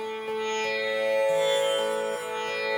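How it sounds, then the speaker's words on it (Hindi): A sustained tanpura drone hums steadily, rich buzzing overtones holding on with slight shifts in pitch emphasis, no voices. "ये तानपुरे की ध्वनि है।"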